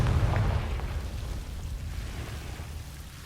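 A Confringo blasting spell goes off in the video game Hogwarts Legacy with a loud, rumbling explosive burst. The boom decays slowly over about three seconds, with no speech.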